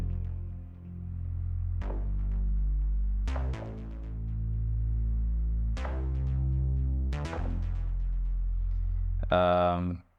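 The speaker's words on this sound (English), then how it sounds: "the bass line pretty much follows my chord progression that I used" A deep bass line from a Thorn synthesizer by DS Audio plays a sustained, repeating pattern of low notes with a steady pulse, joined by brighter tones, ending in a short higher burst.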